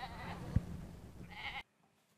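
A sheep bleats from a rural field during outdoor painting, a few wavering calls at moderate distance over a faint outdoor hum before the sound cuts off abruptly into silence.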